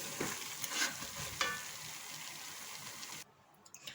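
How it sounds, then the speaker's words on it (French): Plantain stirred in coconut cream in a pan just taken off the heat gives a soft sizzle and wet scraping, with a few clinks of the utensil, until the sound drops away near the end. "on va éteindre et on va continuer à remuer."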